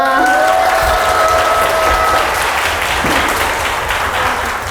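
A concert audience at a study-method presentation event bursts into a steady, dense wash of applause, loud and sustained throughout, with a brief sustained tone early on.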